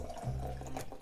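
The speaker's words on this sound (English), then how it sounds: "Sounds carbonated." Homemade fermented orangeade soda fizzes and bubbles, a soft, close hiss of carbonation with faint gurgling lasting about a second.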